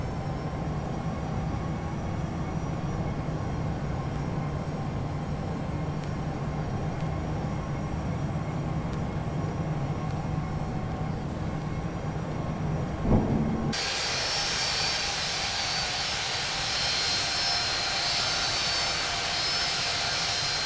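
Steady broadband roar of a simulated airliner's engines during a go-around in the Infinite Flight game, constant and loud, with a brief thump midway followed by a brighter, hissier wind-like tone.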